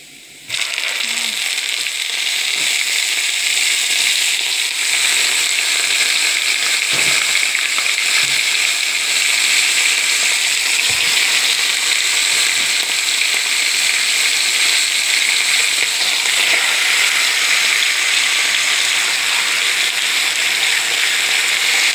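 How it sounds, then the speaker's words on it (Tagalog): Salmon sizzles in hot oil with ginger and garlic, a loud, steady broadband crackle and hiss that runs continuously and close, with a few faint low knocks beneath. "Iprito lang natin muna. Ayan, iprito lang natin muna sa oil"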